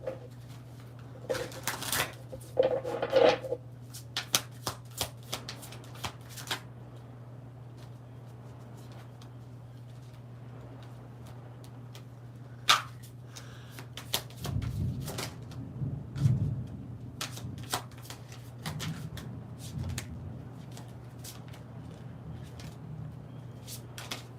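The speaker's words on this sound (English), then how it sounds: "I'm trying to shuffle these cards here." Tarot cards being shuffled by hand in a quiet room, giving soft, scattered riffling and tapping sounds over a steady low hum.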